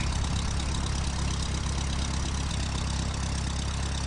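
Engine of a Cessna 172 idling after landing in the GeoFS flight simulator, a steady low droning hum with an even, unbroken level and no talk over it.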